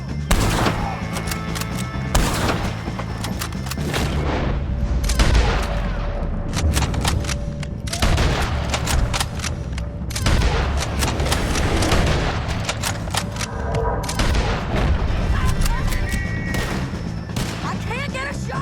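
Gunfire during a shootout with O'Driscoll gang members in Red Dead Redemption 2, rapid overlapping shots and booms in dense volleys that fill the scene, loud and continuous, with character voices shouting underneath.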